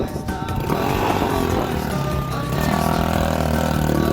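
A pit bike motorcycle engine runs loud and close, a continuous raspy roar with shifting revs that holds steady throughout.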